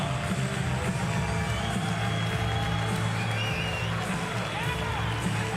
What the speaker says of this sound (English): Crowd in St. Charles, Missouri Family Arena showing their appreciation for the efforts of both Batara taking the fight on short notice and the undefeated Diana of Saragova